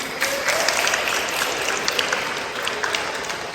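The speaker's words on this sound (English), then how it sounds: "look at each other and clap and say thank you." A crowd at a school sports awards banquet claps steadily, with bright, dense, continuous applause throughout and no voices standing out above it.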